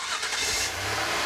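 A car engine cranks and catches after a new starter is fitted, a short burst of rising engine noise that settles into a steady running rumble, close and loud.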